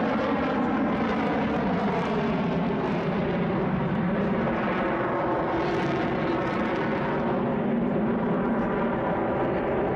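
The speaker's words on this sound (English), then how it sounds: "these expert aviators coordinated a massive 49-plane flyover during a sporting event" A broad, steady roar of aircraft engines drones overhead as a 49-plane formation flies over a sporting event, swelling slightly as the planes pass.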